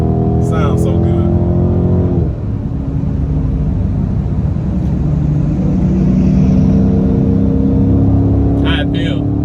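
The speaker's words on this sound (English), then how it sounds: "How it feel? Feel great. Sound good. Transmission shifting crisp." A Dodge Charger Scat Pack with the 392 engine pulling hard, a loud deep engine drone that rises in pitch, dips at a gear shift, then climbs again, heard from inside the car.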